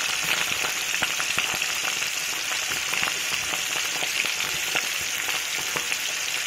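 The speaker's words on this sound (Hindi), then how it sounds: "तो मैं इसमें अब फ्राई कर लेती हूँ इन सारे कोफ्तों को बारी बारी" Koftas deep-frying in hot oil for moti pulao, giving a steady, close, dense sizzle with scattered crackling pops throughout, no voices.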